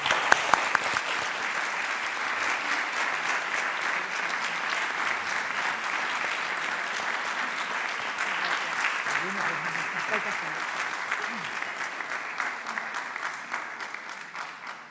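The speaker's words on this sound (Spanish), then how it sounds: "pido un aplauso para todos los amigos de Brines" An audience applauds the friends of the poet Brines at a tribute event in Madrid, sustained, dense clapping from a full room that carries on steadily for the whole stretch.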